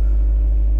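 Warmed-up car engine idling steadily with a slightly raised rev, a deep continuous rumble close by and alone.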